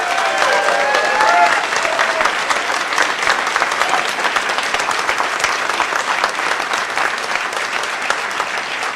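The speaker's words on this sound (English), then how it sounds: "So let's give them a huge round of applause." Loud, sustained audience applause at a hacker conference closing ceremony, a thick continuous roar of many hands clapping with a brief cheer near the start, steady throughout.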